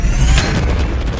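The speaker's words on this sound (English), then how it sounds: "A perfectly timed arrow cannon piercing them with supersonic arrows." A Minecraft arrow cannon firing supersonic arrows lets out a single deep, loud booming blast that fills the whole moment with a low rumble, with no voices over it.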